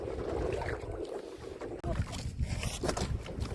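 A boat moves on open river water in the Sundarbans, with steady wind buffeting the microphone and a low motor-like rumble throughout.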